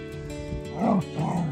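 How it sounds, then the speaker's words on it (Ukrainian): A dog lets out a couple of close, throaty barks, one short woof followed by a second longer one. "А ну не гавка, бо підеш до себе на подвір'я."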